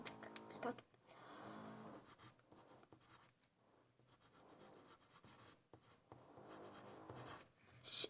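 Pen writing an invitation on a handmade valentine card: faint, intermittent scratching strokes at close range, with soft pauses between bursts of writing.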